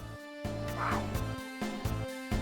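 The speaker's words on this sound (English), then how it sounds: "So you can hear there's like a howl." Canine-like creature noises from the Tales of Destiny video game, a howl then a snarl, sounding as repeated loud yelping bursts over a steady tonal game music bed.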